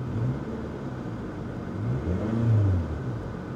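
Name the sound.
car engine revving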